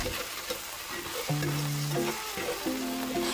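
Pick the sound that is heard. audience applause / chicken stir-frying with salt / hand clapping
chicken stir-frying with salt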